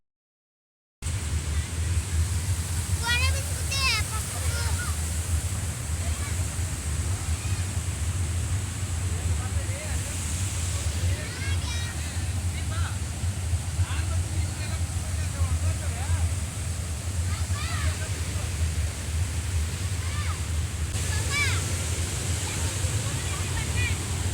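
Water pours steadily over Nayigavi waterfall in a rocky outdoor setting, a continuous loud rushing wash running the whole time, with faint voices now and then beneath it.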